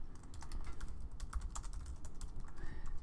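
Someone types a course review on a computer keyboard, producing a steady run of quick, close key clicks with a continuous low background hum and no voices.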